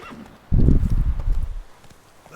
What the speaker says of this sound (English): Go, Roachy Roach, go.